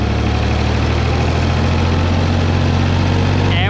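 A tractor engine drones loud and steady in third gear while mowing wheat stubble, a constant heavy rumble with a faint knocking edge throughout.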